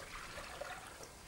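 Water poured from a tap into a saucepan for pear syrup, a soft continuous splashing trickle, quiet and steady.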